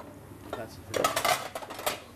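Dishes, pots and cutlery clatter and clink as they are washed by hand at the sink of a restaurant kitchen, in irregular close bursts over a low background hum.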